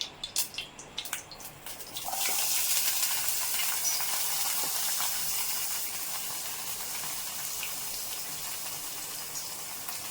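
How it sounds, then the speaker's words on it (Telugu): Onions dropped into hot oil for egg porutu set off a loud, steady sizzle after a few seconds of quieter clatter, holding broad and continuous with no one speaking. "ఫస్ట్ ఆనియన్స్ వేద్దాం మీడియం సైజులో మంట పెట్టుకుందాము"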